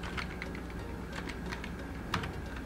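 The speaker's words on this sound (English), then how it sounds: "I want to type in partition." Someone types on a computer keyboard while setting up a Windows 10 machine for LinuxCNC, a steady patter of close keystrokes over a constant fan hum, with one louder tap near the end.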